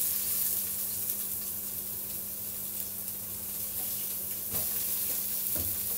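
Onions and carrots fry in a pan of oil with a steady close sizzle, a broad hiss with a few brief crackles and stirring scrapes, and no talk.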